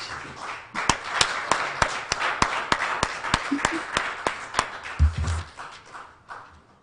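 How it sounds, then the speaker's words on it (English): Steady rhythmic clapping from an audience at a World Polio Day celebration as a speaker comes onto the stage, about two claps per second, close and distinct, with a thump near the end and faint voices. "Please clap her into the stage"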